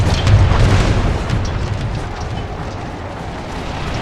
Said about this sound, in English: They're already shooting. Oh, they do have artillery.